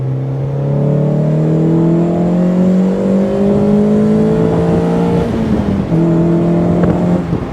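A Mazda MX5 NA fitted with a budget induction kit revs up, its engine note climbing steadily and loud up close, dropping briefly, then rising again.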